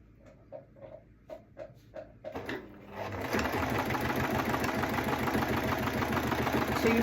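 A sewing machine stitches binding onto an oversized hot pad: a few soft clicks as the presser foot drops, then a steady, rapid, close mechanical whirring that runs to the end.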